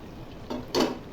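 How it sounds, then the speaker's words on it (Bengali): A pot lid on simmering bhuna meat lifts with two short metallic clinks close by, the second louder, against a quiet kitchen background. "মাংসটা হয়ে আসছে, ঢাকনা খুলে দেখি।"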